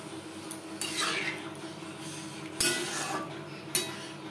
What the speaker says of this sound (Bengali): পেঁয়াজের সাথে ডাল বেশ ভালো করে মিক্সড করে দেবো